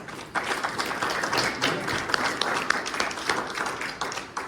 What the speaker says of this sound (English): let's give him a friendly round of applause